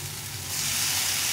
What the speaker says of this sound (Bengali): এই পেঁয়াজ আর টমেটো ভাজা ভাজা হয়ে গেছে। এখন আমি বেগুনটা দিয়ে দেবো।